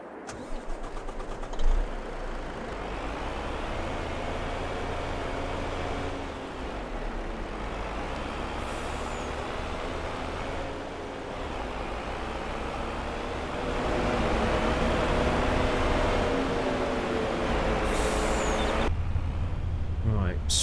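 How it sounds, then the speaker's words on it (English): A farm truck's engine runs steadily and close for a long stretch, rising in loudness near the end, with brief rattles and a voice speaking over it. "I'm going to go get the truck."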